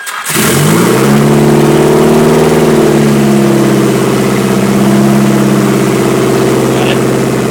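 A Nissan SR20 engine fires up on a cold start, catching abruptly and then revving to a high, loud, steady idle that holds close and continuous to the end.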